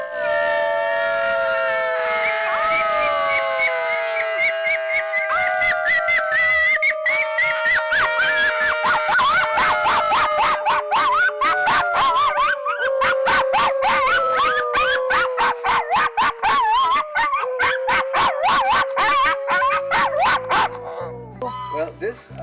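A group of people howl together in Alaska, imitating a coyote. Their long wavering voices overlap and rise and fall in a sustained chorus, loud and close, for about twenty seconds.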